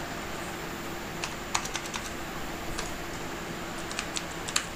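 Keys clatter on a computer keyboard while Java code is typed in NetBeans, with soft, scattered keystrokes in short clusters over a steady low hum, close by and with no talking.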